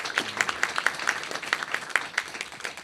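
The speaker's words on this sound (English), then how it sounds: "A round of applause for those people." Applause from an audience at the Limerick Person of the Year awards event, a dense continuous patter of many hands clapping, fairly close and steady for the whole stretch.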